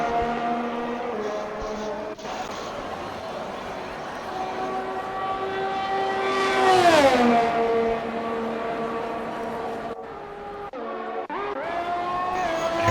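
Race car engines whine through a lap of Monza in a racing video game, one car rising and sweeping past with a sharp pitch drop before others follow, under a commentator's voice.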